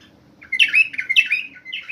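A caged bulbul sings a bright, loud run of warbling chirps and whistled phrases up close, rising after a brief quiet start and continuing in repeated bursts.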